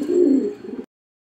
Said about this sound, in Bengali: এই যে দেখেন নর কবুতরটি ডাকতেছে